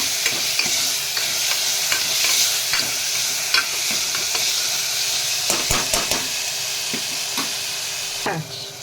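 Onions and tomatoes, salted, fry in a pan for potato kurma while a spoon stirs them, giving a continuous sizzle broken by frequent scraping and metal clinks against the pan.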